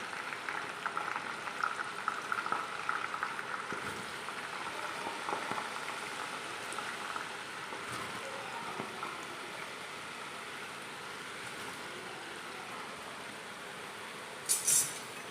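Raw jackfruit chips fry in hot oil with a steady, soft bubbling sizzle that holds evenly throughout, ending with a brief metallic clink near the close.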